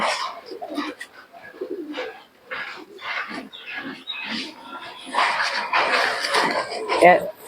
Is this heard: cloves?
no